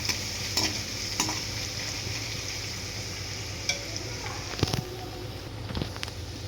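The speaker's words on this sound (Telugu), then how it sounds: "వేసేసి బాగా ఫ్రై అయ్యేంత వరకు కలుపుకోవాలి." Ingredients for tomato rasam stir and fry in a pan, with a steady low sizzle broken by occasional scrapes and clinks of the spoon against the pan.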